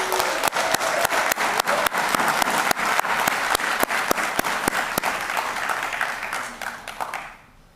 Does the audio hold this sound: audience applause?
yes